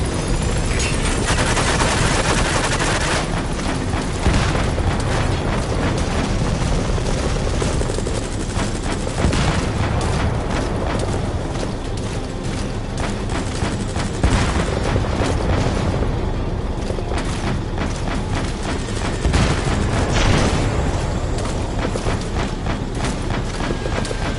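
Sustained helicopter rotor noise mixed with rapid, continuous machine-gun cover fire from the Pequod support helicopter in Metal Gear Solid V: The Phantom Pain, loud and dense throughout with bursts layered over a steady mechanical drone.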